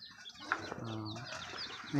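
Chicks on a rabbit farm cheep and cluck while feeding, close and busy, with brief fluttering and scratching sounds and faint background noise.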